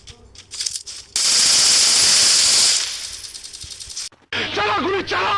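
Rapid automatic gunfire from the Free Fire video game bursts out loud and sustained for a couple of seconds, trailing off into scattered shots, with voices talking before and after.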